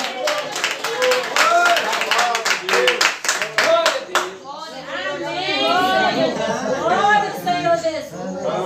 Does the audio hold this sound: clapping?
yes